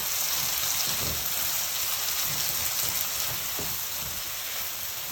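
Egg crackling steadily in a hot wok as it is stir fried for Cantonese tomato eggs, a continuous close, moderate hiss with soft bubbling pops and no talk.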